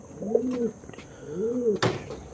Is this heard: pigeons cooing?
yes